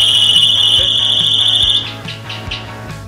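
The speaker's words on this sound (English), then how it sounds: "Here the alarm is activated as the rear door becomes ajar." A loud, piercing trailer security alarm, solar powered and triggered by the rear door opening, sounds continuously, then cuts to a pulsing warble, close and steady.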